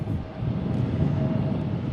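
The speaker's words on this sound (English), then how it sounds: "So another United will be taxiing in." A United airliner taxis at Tucson International Airport, its engines making a steady low rumbling drone heard at a distance with no talk.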